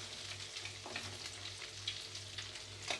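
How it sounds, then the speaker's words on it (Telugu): Eggs fry in a pan and are turned now and then: a steady, soft sizzle with faint scraping as the eggs are moved around, quiet and continuous, with no talking. "కొద్దిగా అటు ఇటు తిప్పుకుంటూ ఫ్రై చేసుకోవాలి"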